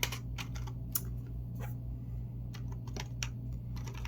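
Quiet, close typing on a computer keyboard, irregular crisp key clicks in short bursts over a low steady hum, with no voices.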